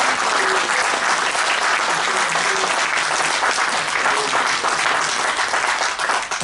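Loud, continuous audience applause for the speaker after an AI conference talk in Nice, many hands clapping steadily throughout with no speech over it.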